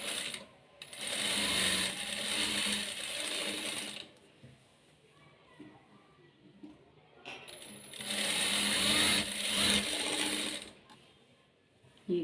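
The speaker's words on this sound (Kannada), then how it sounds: "ಈಗ ಈ ಕಡೆ ಡಾಟ್ನ ಸ್ಟಿಚ್ ಮಾಡ್ಕೋಬೇಕು" A sewing machine stitches a blouse dart in two long whirring runs with a quiet pause between, close and steady with a light mechanical rattle.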